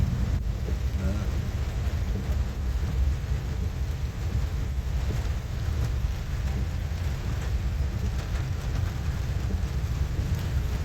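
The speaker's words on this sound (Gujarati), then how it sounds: "બહુ ભયંકર વરસાદ પડે પણ એકદમ" Heavy rain pours down steadily, a dense roaring wash with some wind rumble on the microphone, loud and constant throughout without talk.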